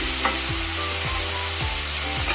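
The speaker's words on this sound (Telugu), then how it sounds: "ఉప్మా ఒక టూ త్రీ మినిట్స్ వేయించుకోవాలి" Tomato bath ingredients fry in a pan with a constant loud sizzle, while a spoon stirs through them in four or five regular scraping strokes, close and with no voices.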